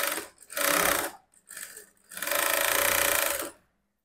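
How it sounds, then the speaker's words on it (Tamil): A sewing machine stitching a blouse runs in two loud bursts, a shorter run and then a longer steady one, with a brief stop and a few lighter mechanical sounds between them. "இப்போ அப்படியே மேல் பக்கம் படிமான தையல் போடுறோம்."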